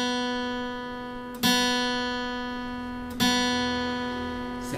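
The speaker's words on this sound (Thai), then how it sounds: "สาย2เสียง B ครับผม" Two plucks of the second string of an acoustic guitar tuned to B, each ringing clearly and decaying slowly, heard alone and close with no talk.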